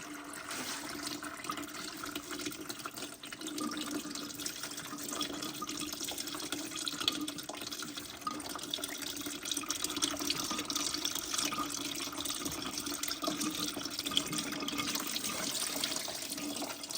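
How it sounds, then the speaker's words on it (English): Coolant drains from a removed hose on a VW 1.9 TDI cooling system in a steady, faint, continuous watery trickle and splash that holds throughout, with no talk. "all the coolant is coming out from the vehicle in this moment"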